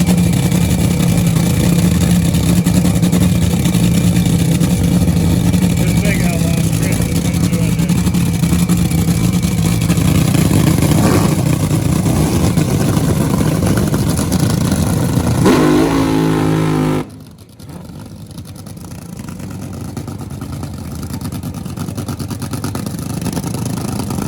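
Drag race cars roar at the NHRA Vegas Nationals starting line, a loud, continuous engine blare that cuts off abruptly before a quieter, lower rumble returns.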